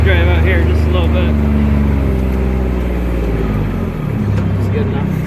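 A farm tractor driving out over hay windrows, its engine a loud, steady diesel drone close by that dips briefly before continuing, with someone talking over it.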